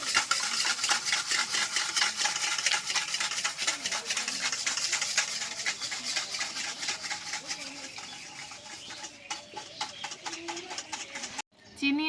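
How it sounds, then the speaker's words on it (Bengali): Sugar and milk stirred together in a bowl, a quick steady rhythm of spoon scrapes and taps against the bowl, close and continuous, with a brief pause near the end. "চিনি আর দুধটাকে প্রথমে খুব ভালো করে মিশিয়ে নিচ্ছি।"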